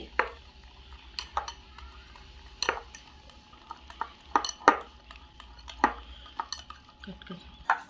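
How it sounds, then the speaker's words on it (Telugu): Crushed biscuits and milk are stirred into cake batter in a bowl, making repeated sharp clinks and scrapes of a spoon against the rim in an uneven rhythm, with light kitchen background noise. "ఇప್పుడు ఒకసారి బాగా కలుపుకోండి"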